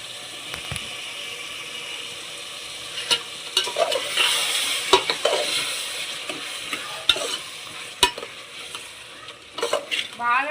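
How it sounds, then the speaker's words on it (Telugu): Chicken with coriander and mint is stirred in a hot pan, giving a continuous sizzle of frying. Scraping and clacking strokes of the spoon against the pan come through in irregular bursts, close by, with no talking. "ఇప్పుడు దీన్ని కలపాలి."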